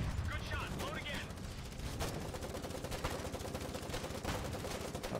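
Gunfire in the war video game Foxhole, dense continuous rumbling shots and distant booms layered into a constant roar of battle, with a voice speaking faintly beneath.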